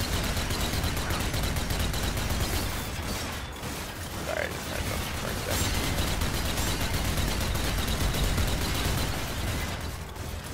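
Dense, continuous gunfire from a zombie shooter video game, with overlapping shots forming a steady roar that dips briefly around the middle before surging back.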